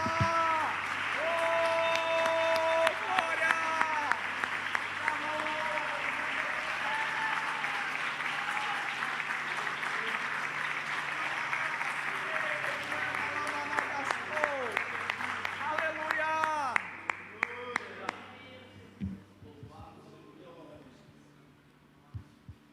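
A church congregation bursts into sustained, loud applause that carries on for about twenty seconds before thinning to scattered claps, while a voice talks over it.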